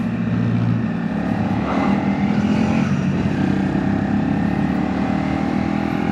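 A Honda CRF 250 L motorcycle accelerates up a steep road at Nagrek, its engine a steady, loud, continuous drone with wind rumble and no talking.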